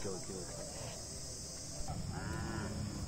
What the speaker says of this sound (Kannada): ಈ ವರ್ಷ ಹಸು ಕರುಗಳು ಜಾಸ್ತಿ ಬಂದಿದೆ